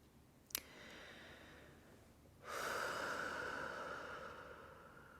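During a guided breathing exercise, a faint click is followed by one long, deep, airy breath that swells and slowly fades, close and without any talk.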